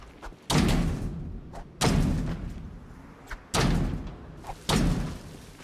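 Four heavy thuds at irregular intervals in Project Zomboid, each a loud booming impact on a door with a short rumbling tail, like someone repeatedly ramming it.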